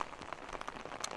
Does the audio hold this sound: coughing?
no